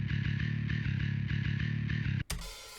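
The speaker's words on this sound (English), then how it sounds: "So it's just normal bass," Bass line rendered from a programmed bass part to audio, playing a steady repeating rhythmic pattern of low notes for about two seconds before stopping sharply.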